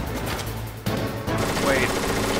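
Vulcan Raven fires a heavy gun to shoot down a missile in the Metal Gear Solid video game, a rapid rattling burst of automatic fire that cuts off and resumes, with a voice partly underneath.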